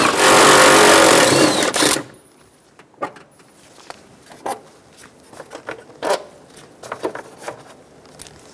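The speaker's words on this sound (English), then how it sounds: "Remove the 3 12mm bolts." A power ratchet whirs loudly and steadily for about two seconds while backing out 12mm bolts from the airbox of a 2005-2015 Toyota Tacoma 2.7L four-cylinder, followed by scattered close metallic clinks and rattles of the loose bolts and tool.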